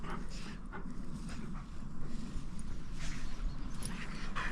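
A dog on a countryside walk whimpers and pants eagerly, small whiny sounds and breathing scattered over outdoor background noise, fairly close, with no talking.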